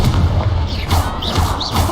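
An Accio spell cast in Hogwarts Legacy gameplay, a dense rumbling magical burst with heavy low thumps and brief rising whooshing swirls, loud and close over game combat noise.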